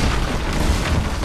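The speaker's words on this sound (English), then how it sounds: "Okay, I can fire the cannons too" Ship cannons fire in a pirate-seas level of the Plants vs. Zombies 2-style video game, a dense, continuous booming rumble of blasts that fills the whole moment, loud and without any talk.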